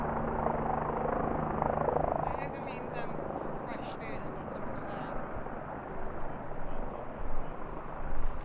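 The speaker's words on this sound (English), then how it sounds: "That's either a supply chopper and is bringing stuff to the hut, because that's the way they supply these huts" A supply helicopter flies near a mountain hut on an Alpine climbing route, its rotor chop a faint distant rumble under nearby wind, breathing and voices.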